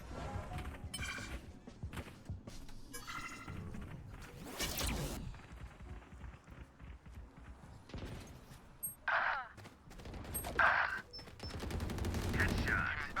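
Shooter video game gunfire crackles in scattered bursts and single shots over about thirteen seconds, mixed with other game effects and occasional voice.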